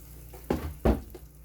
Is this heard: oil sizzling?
yes